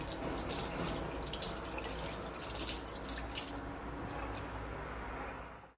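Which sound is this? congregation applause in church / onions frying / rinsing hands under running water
rinsing hands under running water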